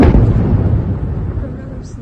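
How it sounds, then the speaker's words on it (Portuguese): Large explosion at a coal mine near Luhansk: a heavy, booming blast that hits at once and then rolls and rumbles away over about two seconds, loud and distant-sounding. "uma explosão muito grande ali, dá para ver."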